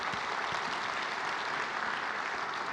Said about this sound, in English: Give Dietmar a round of applause, please.